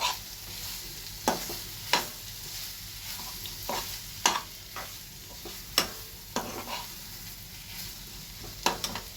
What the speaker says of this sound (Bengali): এবার ভালো করে এটাকে নেড়ে নেব, সব একসঙ্গে মিশিয়ে নেব।